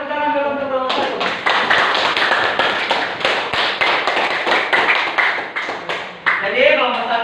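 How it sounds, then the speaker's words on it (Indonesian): A classroom of students claps for the first presentation group, a dense run of sharp, uneven hand claps that starts abruptly and continues steadily at close range, with a voice speaking over the start and end. "kita kembalikan tepuk tangan dulu untuk kelompok 1"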